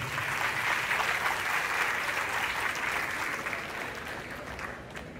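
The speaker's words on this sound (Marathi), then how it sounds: "यांच्यासाठी प्रथम सर्वांनी जोरदार टाळ्या वाजवायच्या आहेत" Loud, sustained applause from an audience at a school event about a tobacco-free campus, with many hands clapping steadily for the full duration and easing off only slightly toward the end.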